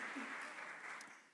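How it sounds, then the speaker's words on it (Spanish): A church congregation applauds during a Spanish-language sermon, dense clapping loud at first and then gradually tapering off over a short stretch. "Dale un aplauso más fuerte."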